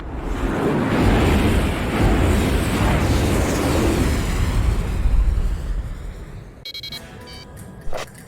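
Missiles launch and explode in the Ace Combat Zero flight game, a sustained loud roaring blast that dominates for several seconds before cutting to brief clicky electronic tones.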